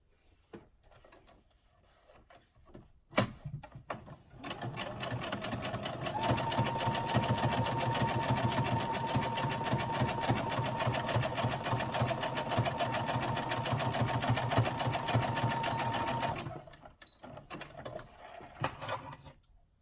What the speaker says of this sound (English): I'll go ahead and top stitch toward the band